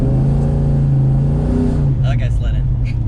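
An LS1 V8 in a VN Commodore revs hard and accelerates loudly from inside the cabin, with its deep engine note rising and then settling as gear changes, while people talk over it.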